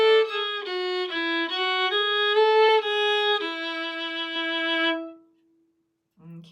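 A bowed string instrument plays two phrases of the Irish slip jig Soggy's slowly and evenly in a lilting triple rhythm. It is close, clear and solo, and a held last note fades out before a brief sound at the end.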